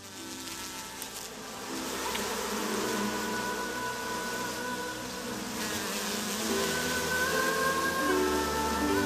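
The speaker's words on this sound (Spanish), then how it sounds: "Un enjambre de abejas descendió sobre su cuna como si fuera de miel." A dense swarm of bees buzzes continuously, a thick steady hum of many wings filling the air at moderate, even loudness with no voices.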